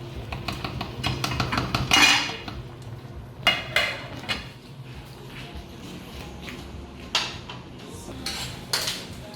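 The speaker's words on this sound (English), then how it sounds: "And you just stir it just to check" A spoon stirs bulgur rice in a metal pot, with irregular scraping and clinking knocks against the sides, some strokes louder than others, over a low background hum.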